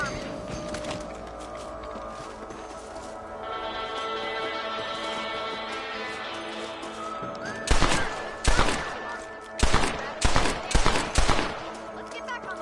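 Gunfire in the Western video game Red Dead Redemption aimed at rabbits and outlaws: a handful of loud, sharp shots crack out in an irregular burst over a steady background of game ambience, with no talking.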